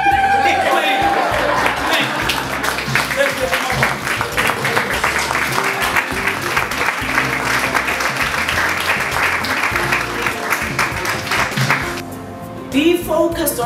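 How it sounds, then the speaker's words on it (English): Warm, sustained applause from the audience at a Zambian leadership lunch event, a long, even wash of many hands clapping that fades near the end as voices return. "give her a warm, warm Zambia applause"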